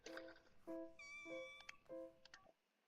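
A cat in The Sims 4 meows several times in quick succession, clear, close and tonal, with a short gap before the final call.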